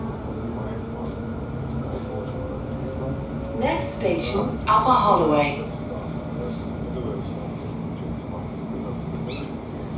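A London Overground train on the Goblin line between Barking Riverside and Gospel Oak rumbles steadily throughout, with a low drone and a faint tonal whine, while a recorded station announcement speaks over it.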